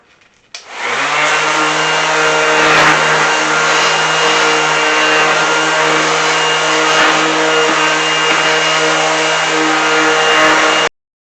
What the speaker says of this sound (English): So now I'm done sanding with the 80 grit and the 100 grit.